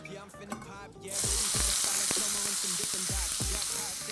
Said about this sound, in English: let me get this pan going with some olive oil, about a tablespoon, 2 tablespoons